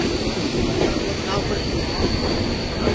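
A train runs at speed past Dudhsagar Falls in the Braganza Ghat during the monsoon, with a steady loud rumble of wheels and carriages and a faint high squeal. It sounds close, continuous and unbroken.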